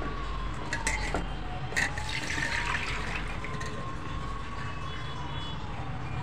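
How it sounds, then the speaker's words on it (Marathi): Water from boiled cauliflower florets pours and drains through a strainer while making gobhi manchurian, a steady close splashing rush running the whole time with brief clatters. "आता आपण हे गाळून घेऊया."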